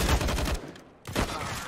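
AUG rifle gunfire in Counter-Strike during an IEM Katowice 2021 match, loud rapid bursts of shots, a short pause, then another burst.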